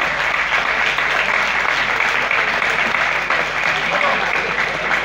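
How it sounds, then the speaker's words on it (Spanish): Dense, loud, sustained applause from a crowd fills the hall at a year-end cattle auction gala, holding steady throughout without a break. "A ver, un aplauso, Hernán."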